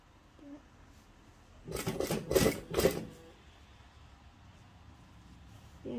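A sewing machine stitches a curved rolled hem on a shirt dress, running in three short, loud bursts in the middle of an otherwise quiet stretch.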